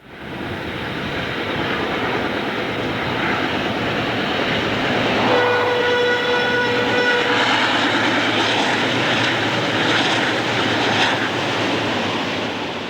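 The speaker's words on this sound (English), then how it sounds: "West of Dunning, a quartet of GEs heads up another westbound." A westbound train headed by four GE locomotives rolls past in the Sand Hills, a loud steady rumble of engines and wheels with a sustained horn blast midway, heard alone without voices.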